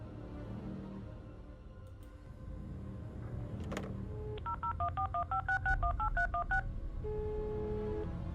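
A telephone is dialed in the video game OutRUN: a few clicks, then a quick run of keypad dial tones in a steady series, followed by a single longer tone, clear and up front.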